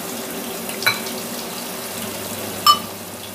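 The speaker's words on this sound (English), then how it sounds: "I am going to add water to this and soak it for 1 hour." Water trickles and splashes into a bowl of urad dal and rice set to soak, a soft steady pour with two brief louder splashes, close and quiet.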